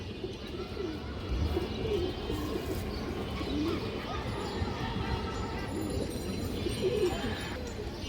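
Bagha pigeons coo softly several times in a rolling rhythm, close but faint beneath steady background noise.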